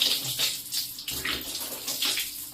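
Water runs from a tap at low speed during wudu ablution, a steady splashing stream with slight surges as hands move through it, close and clear with no talking.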